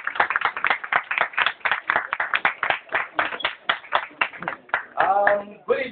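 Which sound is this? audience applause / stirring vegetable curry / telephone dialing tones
audience applause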